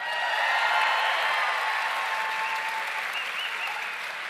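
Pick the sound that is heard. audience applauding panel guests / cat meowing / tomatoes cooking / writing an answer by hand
audience applauding panel guests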